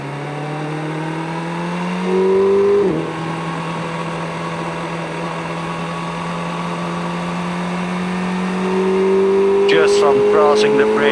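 Car engines hum and rise in pitch as vehicles start moving across a flexing, vibrating bridge, heard from inside a car, with steady drones that climb gradually and a brief louder swell partway through.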